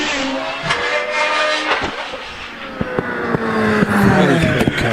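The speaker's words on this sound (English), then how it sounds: "This is the GR59B with the Judd V8" A GR59B hillclimb race car with a 4-litre Judd V8 screams loudly on a hillclimb course, its high-revving engine rising through sharp gear changes across a few seconds.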